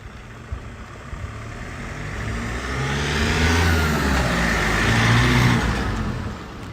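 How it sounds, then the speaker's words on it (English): A car drives slowly past a live house auction on a suburban street in Cheltenham, Victoria, its mid-pitched engine swelling in a steady rise as it nears and draws level, then easing off at the end, heard alone with no talk. "we'll let that car pass before we commence the bidding"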